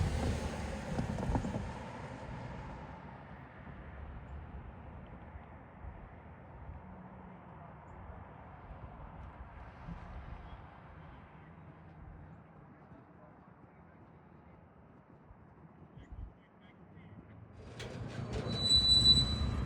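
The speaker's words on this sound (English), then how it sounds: "we'll see him back the rest of his train into the spur at A.B. Martin Building Supplies" An East Penn Railroad freight train slowly backs into the spur siding at A.B. Martin Building Supplies, a low steady rumble of rolling cars with a brief high wheel squeal near the end.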